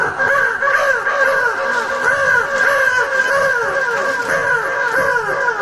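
A person's voice imitates a crow, giving a steady run of loud, close, harsh cawing calls repeated one after another without pause.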